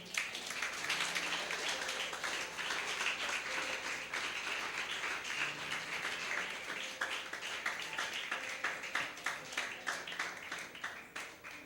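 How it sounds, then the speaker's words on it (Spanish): A church congregation gives loud applause during a sermon, sustained crowd clapping with some individual claps standing out and faint tonal sounds underneath, tapering a little near the end. "démosle un fuerte aplauso"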